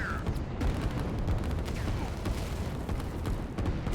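Rapid gunfire from an interceptor unit shooting at strikers in the strategy game Line War, heard as a dense, continuous barrage of shots and impacts, fairly loud throughout with no pauses.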